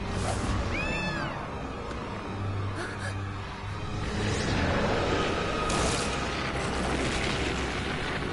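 A cartoonish cat gives a short meow near the start of a PS4 video game scene, heard over dense, noisy game effects with rumbling booms and a steady background din.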